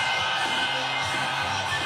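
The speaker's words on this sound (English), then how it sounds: "the round of applause he's getting right now is pretty staggering" A large arena crowd at UFC 302 applauds and cheers for former President Trump, a dense, steady roar of clapping and shouting that holds at full volume throughout.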